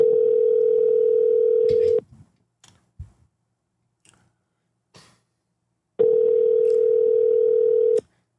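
A telephone ringback tone plays while a call is placed to a housing provider: a steady two-second tone, then about four seconds of near-silence with small clicks, then the tone again.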